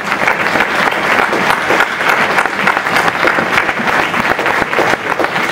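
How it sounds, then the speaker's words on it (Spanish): Steady, dense applause from an audience fills the whole stretch, loud and close with no break, a few voices faintly mixed into the clapping. "Entonces, doble aplauso para Paco Pepe."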